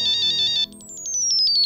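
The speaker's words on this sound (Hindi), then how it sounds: "यार फोन साइलेंट में नहीं रख सकती?" A mobile phone ringtone rings loud and close, a repeating electronic melody of bright pulsed tones that shifts pattern partway through, with no talking over it.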